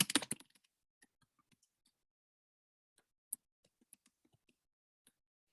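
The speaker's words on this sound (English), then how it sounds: "You can see how bad my typing is" Keys clatter on a computer keyboard during an online English lesson, a dense burst of fast typing up front, then sparse, scattered taps and clicks fading in and out over quiet.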